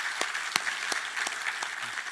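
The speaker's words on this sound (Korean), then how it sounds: "우리 하나님께 감사와 영광의 박수를 드리겠습니다" A church congregation applauds steadily, a dense wash of clapping with a few sharper claps standing out, sustained throughout at moderate volume.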